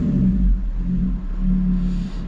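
A Lotus Exige 380 Sport's engine fires up with its exhaust valves open, settling into a loud, deep, steady rumbling idle with slight swells in tone, no voices over it.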